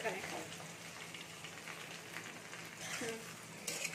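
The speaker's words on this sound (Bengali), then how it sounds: "দিয়ে এবার একটু নেড়ে নিচ্ছি আমি। দেখুন নেড়ে নিচ্ছি, এটা একটু লাল লাল হবে।" Besan and semolina snack frying in a pan while being stirred, a steady close sizzle with scraping stir noises running throughout.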